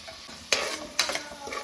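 Onion and tomato frying in a pan for oats bisibelebath, with a soft steady sizzle broken by two clear scrapes of a spoon stirring against the pan.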